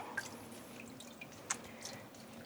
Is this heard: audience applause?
no